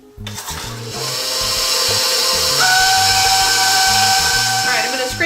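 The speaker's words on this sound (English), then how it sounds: "We beat this for 3 minutes, scraping the sides occasionally." An electric mixer whirs steadily through pumpkin cheesecake batter, a loud continuous motor whine that climbs slightly in pitch and holds, while a person talks over it up close.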